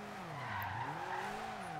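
An old Toyota Celica GT with its stock engine drifts in the video game Forza Horizon 2, giving a steady, sustained tire squeal over a wavering engine note that rises and falls. No voices are heard.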